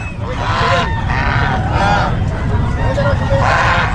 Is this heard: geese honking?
yes